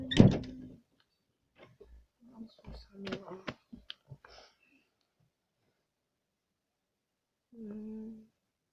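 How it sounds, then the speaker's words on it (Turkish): A door is pulled shut indoors during a children's game of truth or dare, heard as a loud knock at the start followed by scattered soft clicks and bumps, with brief voice sounds at the end. "Arkadaşlar bekleyin kapıyı örteceğim."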